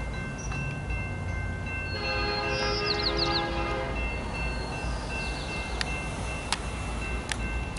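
BNSF freight locomotives rumble past with a steady low drone, and a chord-like horn with layered tones sounds in the middle. Brief sharp squeals follow near the end.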